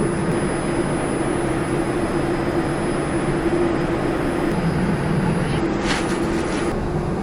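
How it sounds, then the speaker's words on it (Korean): Airport shuttle train pulling away from a station, a steady low rumble and hum running throughout with a brief higher whine near the end, heard from inside the car. "열차가 출발합니다"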